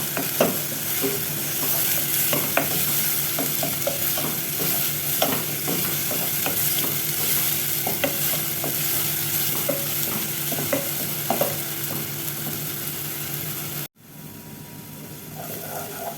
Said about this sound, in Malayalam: ഫൈനലി ചോപ്പ് ചെയ്ത് ഉള്ളി ചേർത്ത് കൊടുക്കാം. നന്നായിട്ട് തന്നെ ഒന്ന് വഴറ്റിയെടുക്കണം.